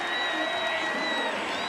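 A home crowd cheers and applauds at a Premier Lacrosse League game between the Denver Outlaws and Utah Archers, a dense steady roar of voices and clapping with a whistle-like tone on top, heard together with the announcers talking.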